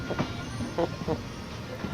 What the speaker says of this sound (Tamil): இந்த ட்ரெயின் கிராஸ் ஆகுது பாருங்கள், நாக்பூர் போகிற ட்ரெயின்.